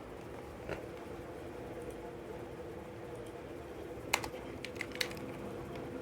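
Soft, faint clicking on a computer keyboard while Java code is typed, quiet scattered keystrokes over a steady room hum, with a few sharper clicks near the end.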